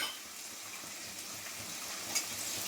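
Capsicum fries in a pan with dried red chili, a soft continuous sizzle with faint stirring scrapes and one brief clink near the end, quiet and without talk.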